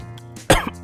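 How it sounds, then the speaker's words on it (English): A man coughs sharply, with one strong burst followed by a second shorter cough, close and clear against a quiet low hum. "He begins to cough."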